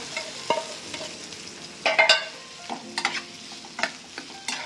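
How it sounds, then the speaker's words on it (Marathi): Mashed potato sautéing in a pan with asafoetida, turmeric and coriander, soft sizzling under repeated spoon stirs and scrapes, with a few sharper clinks of the utensil against the pan, fairly quiet and close. "आणि असं परतून घ्यायचं 1-2 मिनिटं"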